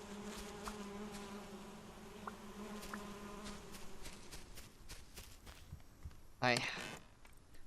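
Bees in a video game hum in a low, continuous drone, with a short, louder buzzing burst near the end.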